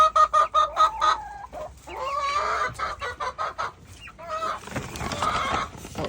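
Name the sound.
chickens clucking in a homestead coop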